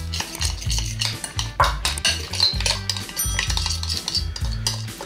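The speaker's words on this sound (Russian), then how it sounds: "Чайной ложкой маринад перемешиваю." A teaspoon stirring soy-sauce chicken marinade in a bowl, rapid rhythmic scraping and clinking of metal against the bowl, steady and close for several seconds with no talk.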